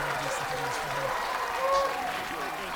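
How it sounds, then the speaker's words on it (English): Home football fans at a high school game cheer and applaud in a steady crowd roar for their defense after a big stop, with a commentator's voice talking over it. "the Knights faithful are on their feet cheering on their defense"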